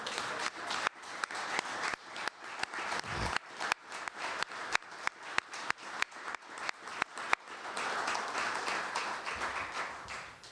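Scattered clapping from a small crowd at a press conference, a patter of individual claps that thickens into fuller applause toward the end.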